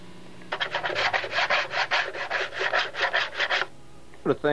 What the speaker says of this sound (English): I'm going to finish pulling this tape off